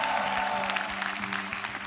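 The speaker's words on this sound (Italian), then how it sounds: "Gianni, applauso a Gianni!" An audience applauds at a motivational talk, with dense, steady clapping that fills the whole short moment and carries faint crowd murmur underneath.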